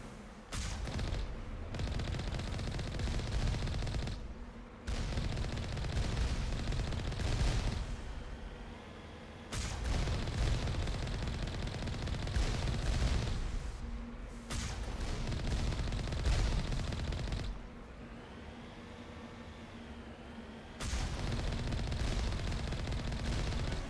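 Heavy turrets fire in the Mass Effect video game, in long sustained bursts of loud, dense shooting broken by brief pauses, close and dominant with no talking.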